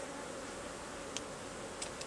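Honey bees humming faintly around an open top-bar hive with central brood comb, a steady low buzz with a few brief closer passes by individual bees.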